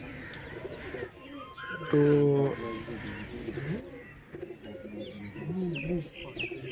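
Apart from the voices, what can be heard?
diving pigeon cooing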